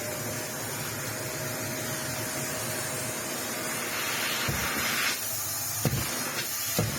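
A vacuum cleaner runs with a steady high whine and airy hiss, punctuated near the end by a few sharp clacks of debris or handling.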